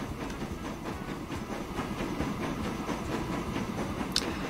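Train running in Transport Fever 2: a steady rolling rumble with faint rhythmic clicking, heard close and continuous with no one talking.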